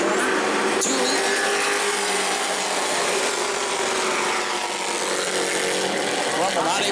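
Race trucks roar around the short oval at New Smyrna during heat races, a loud sustained engine drone blasting continuously with a sharp burst near the start, likely under commentary.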